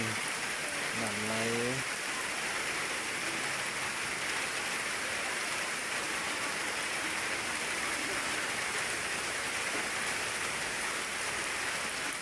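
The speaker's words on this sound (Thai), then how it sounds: "ฝนตกมากพี่น้องก็เลยได้พักผ่อน" Steady, even rain pours down outdoors beside rice fields during canal digging, a constant hiss of drops holding at a moderate level throughout with a brief voice at the start.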